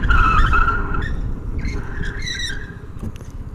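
A Suzuki Burgman 125 scooter's rear tire screeches and skids for a few seconds as the locked rear wheel slides without ABS under a loud engine, the squeal fading toward the end.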